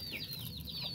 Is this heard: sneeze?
no